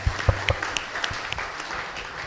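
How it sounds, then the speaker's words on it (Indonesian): Audience applause at a public dialogue forum in East Jakarta, starting with a few distinct claps and settling into light, fairly quiet clapping that tapers off. "Berikan tepuk tangan yang meriah."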